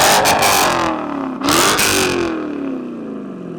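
A loud Corsa aftermarket exhaust on a Dodge Challenger roars through two hard revs up close, then the engine note drops and settles into a lower, fading drone.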